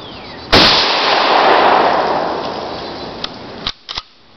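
One loud, close shot from a bolt-action Mauser rifle fired outdoors at about 60 yards, followed by a long fading echo. A few sharp metallic clicks come near the end, likely the bolt being worked.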